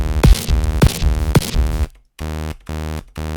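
Initialized Serum synth preset playing a plain, buzzy sustained tone with three quick bass-heavy stabs followed by steady held notes broken by brief gaps, loud and alone.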